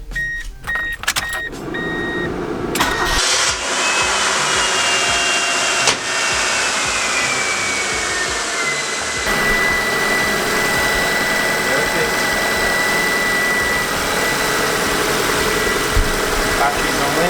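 A Metro car engine cranks and catches after a few clicks, then settles into a steady, droning idle that runs on for a long stretch.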